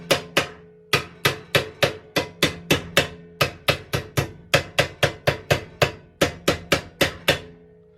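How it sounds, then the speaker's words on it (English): Steady hammer blows working a tuck into a curved car-panel lip, around twenty-five sharp metallic strikes in quick, slightly uneven rhythm with a ringing decay, close and loud. "I'll work a tuck into it by hammering each side of the tuck that's forming now"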